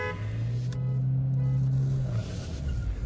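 Engine of a Hyundai Creta or Mahindra Scorpio N pulling hard from the start of a drag race, a loud steady low drone that holds and then drops off as the gear changes, close and continuous with no talk over it.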